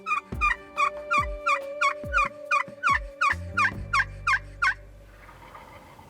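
A wild turkey in a field gobbles in a rapid, rattling series of about a dozen loud pulses, followed by a low drawn-out tail, with no talk.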